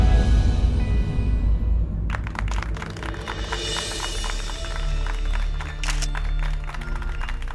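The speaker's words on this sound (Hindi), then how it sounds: "आप ही के लिए ताली बज रहा है।" Applause breaks out inside a police station for a returning officer, a dense patter of clapping from a small group, starting abruptly after a low rumble and continuing steadily to the end.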